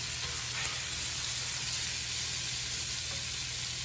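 Blackened shrimp sizzling hard in a hot pan, a dense, even hiss that holds steady throughout.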